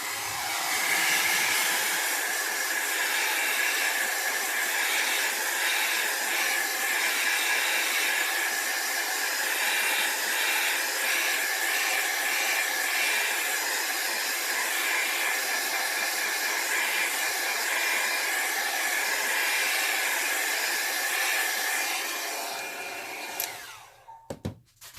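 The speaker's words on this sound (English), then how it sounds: "Now I'm going to take my dryer and dry this." A hair dryer blows steadily and loudly on a freshly sprayed alcohol ink painting of a hibiscus flower, a constant airy roar running for over twenty seconds before clicking off near the end.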